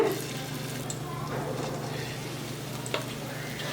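Raw plantain slices fry in a couple of ladles of oil on a dosa tawa, giving a steady, even sizzle with a low hum underneath and one faint clink near the end.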